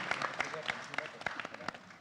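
Applause from an audience at the launch of FinCash during a savings society AGM, a couple of seconds of scattered, uneven clapping that comes and goes as the moment lands.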